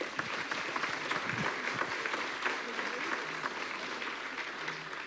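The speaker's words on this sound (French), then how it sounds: "on vous applaudit" An audience at a conference on cyber and information threats applauds steadily, a dense even patter of many hands that carries on throughout.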